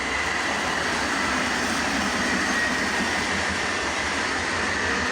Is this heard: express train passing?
yes